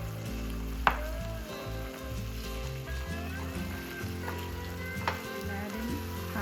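Chicken pieces frying in a pan of curry with turmeric and curry powder sizzle steadily and close up, with a couple of sharp scrape-and-stir accents from a utensil and no talking.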